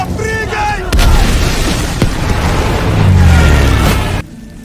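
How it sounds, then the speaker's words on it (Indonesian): A burning ammunition truck explodes in a war film about young Soviet soldiers fighting Nazi Germany. Loud, close booming blasts and a rolling rumble churn for several seconds, then cut off abruptly. "Gak lama truk itu meledak"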